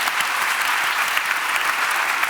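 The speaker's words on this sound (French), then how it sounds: "mais on peut l'applaudir, merci" Audience at a mock trial event in France applauds a volunteer juror, a steady dense roar of clapping from many hands throughout, fairly close and even in level with no talk.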